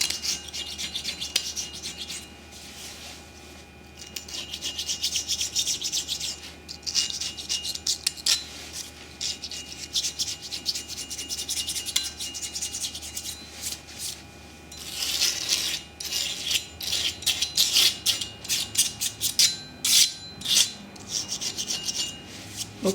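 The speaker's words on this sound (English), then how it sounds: "I'll just use a razor blade and scrape this off." A razor blade scrapes carbon buildup off a part of a Ford 9-inch differential, producing repeated close, raspy strokes in uneven bursts with brief pauses and no talking.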